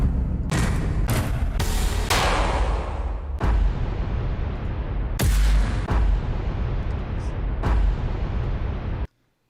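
Cinematic trailer hit sound effects play one after another, a series of loud, deep booming impacts with long rumbling tails that end abruptly in silence.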